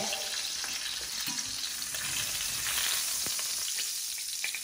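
Duck breast fries without oil in a Saladmaster pan, giving a steady, close sizzle and crackle with scattered pops throughout and no talking.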